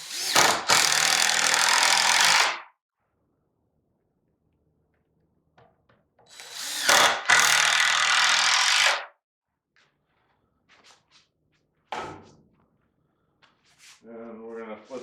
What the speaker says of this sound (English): So just putting in some 3-inch long screws just to hold.